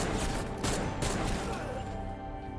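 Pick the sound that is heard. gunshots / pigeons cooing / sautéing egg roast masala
gunshots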